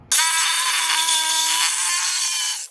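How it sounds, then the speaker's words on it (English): A Sawzall reciprocating saw with a metal blade cuts through a handle while building a snow shovel, giving one loud, close, continuous buzzing whine that starts abruptly and runs steadily for nearly three seconds before stopping. "I'm going to use a Sawzall with a metal blade"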